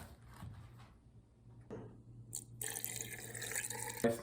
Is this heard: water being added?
yes